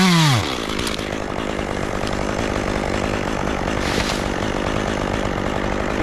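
Close and loud, a chainsaw cuts through a tall hemlock on a steep slope, its engine climbing to a sustained high-revving whine that holds steady through the cut.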